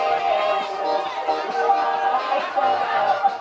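A large crowd chatters in a steady, dense babble at an Independence Day celebration in Manus, with layered voices blending into a continuous murmur throughout.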